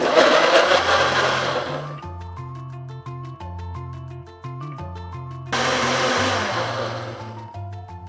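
A blender on its extract setting whirs loudly through a blue cheese vinaigrette with chunked cucumber, running in two strong bursts with a quieter stretch of background music between them.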